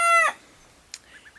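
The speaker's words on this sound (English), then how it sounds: "got some chickens in here as well" Chickens at a homestead: a loud, close rooster crow opens, followed by quieter short clucks and soft chirps from the flock against a calm background.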